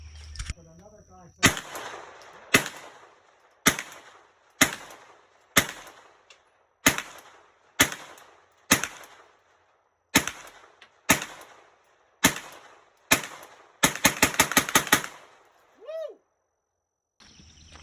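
Palmetto State Armory rifle fired outdoors, a slow series of about a dozen sharp, loud, close gunshots roughly a second apart, ending with a rapid burst of shots.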